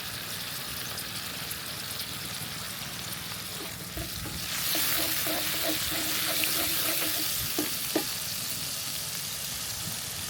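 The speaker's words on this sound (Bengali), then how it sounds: "দেখেন মশলাটা সুন্দরভাবে কষা হচ্ছে।" Spice masala for a Bihari-style egg curry sautés and is stirred in a pan in a village kitchen. A steady sizzle grows louder midway, with a run of spoon scrapes and taps against the pan and no talking.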